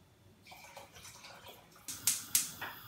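Port wine splashes and trickles into a ham glaze in a kitchen, a soft pour building to a few brighter splashy bursts near the end, close and fairly quiet with no talking.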